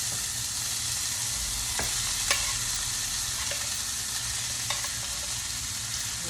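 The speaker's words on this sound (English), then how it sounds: "I am going to put it right here in this skillet." Creamed corn frying in a skillet on a stovetop gives a steady broadband sizzle throughout, with a few sharp spoon-against-pan clicks scattered over it, close and fairly quiet.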